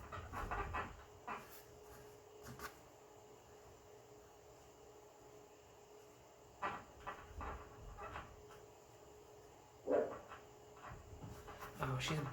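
A dog pants and scuffles on a squeaky bed in a spare bedroom, with faint thumps and rustles as it jumps and bites a pillow; quiet, close sounds with some soft background noise.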